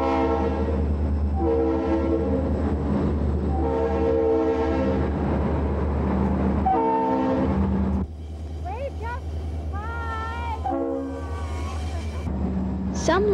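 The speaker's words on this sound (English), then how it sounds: "I like it when the engineer waves and blows the horn" A toy train horn sounds in long sustained blasts over the steady low rumble of the passing toy train, with a voice talking briefly near the end.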